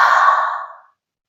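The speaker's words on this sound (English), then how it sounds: "So the mouth is open and we're blowing." A single breath blown out through an open mouth, a soft airy rush that fades out over under a second, close and alone with no voice.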